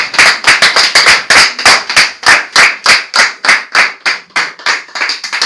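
An audience applauds a pastor with steady, rhythmic, in-unison clapping, loud and close, about three beats per second with no talking.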